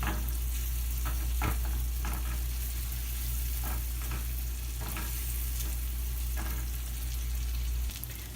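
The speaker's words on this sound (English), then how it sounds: "That's why I love sauteing mushrooms in butter" Mushrooms sautéing in butter in a pan, a constant close sizzle with intermittent scraping stirs and a low steady hum underneath.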